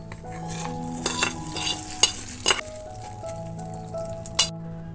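Tempering spices crackle and sizzle in a pan while a spoon stirs and clinks against metal, with a few sharp louder scrapes along the way, before being stirred into a sour karonda chutney.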